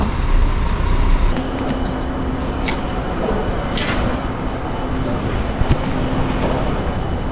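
A train at a railway station starts to depart, heard as a steady loud rumble of rolling carriages with faint rattles and brief metallic squeals, mixed with ambient station noise.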